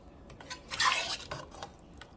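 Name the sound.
stirring boiling chicken stew in a pot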